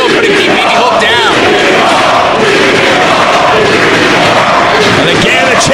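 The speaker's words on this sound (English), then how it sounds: "the champ hears it from the crowd here in Philly" A dense wrestling arena crowd in Philadelphia roars and chants at the champion, loud and continuous, with voices blending into one wall of cheering and jeering.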